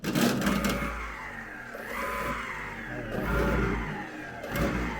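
An electric four-wheel go-kart motor spins the wheels during a bench test, a fairly loud whirring hum that swells and eases in a couple of surges, with no talking.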